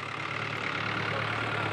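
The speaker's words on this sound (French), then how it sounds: "Tous les soirs, le tracteur de la plantation ramène les ouvriers." A tractor engine on a palm oil plantation in Liberia runs at a steady idle, a close, continuous low rumble with no breaks or changes in pitch.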